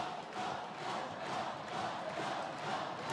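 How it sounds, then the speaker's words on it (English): A large indoor crowd of Cheshire Phoenix basketball fans roars and chants a player's name in a steady, rhythmic swell, loud and continuous with no single voice standing out. "you can hear the Cheshire Phoenix fans calling his name"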